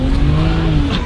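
A BMW E90 335i on full boost sweeps past in a brief, loud flyby, its engine note holding high and then dropping sharply as it passes.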